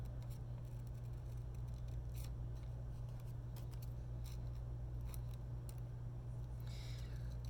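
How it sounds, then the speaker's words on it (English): Scissors snipping paper around flower petals, a series of short, faint crisp cuts spaced irregularly over a low, steady background hum. "Just cutting out around the petals."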